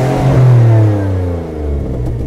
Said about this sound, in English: I'll give you guys a little exhaust note.